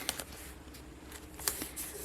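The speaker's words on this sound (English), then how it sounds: "Let's add some painter's tape to the back." Painter's tape is pulled and pressed onto the back of embroidered fabric for a basket tag, giving a few faint, quick crackly rips and sticky taps close by in a quiet room.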